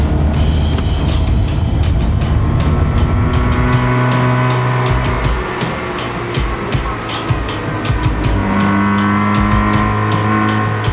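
A Mazda Cosmo drives along with a steady engine drone that rises and falls through gear changes, heard from close inside the car, loud and continuous with faint clicks from the cabin.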